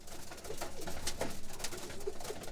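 Roller pigeons cooing at feeding time, a flock of soft, low coos repeating through the moment at moderate distance, with occasional light fluttering and scratching around them.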